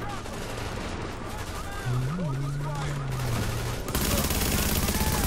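Enemy gunfire in the video game The Division rattles in rapid, dense bursts that grow louder toward the end, layered with game music and other combat noise.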